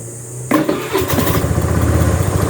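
A small Rusi Flex 125i motor scooter engine cranks and catches after a short pause, then settles into a steady, loud idle close by.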